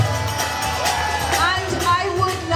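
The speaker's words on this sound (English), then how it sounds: "Can we have a round of applause for Devi Radha Mataji?" A festival crowd at a kirtan event in Dallas cheers and whoops with applause mixed in, lively and close, with voices and shouts rising over the clapping.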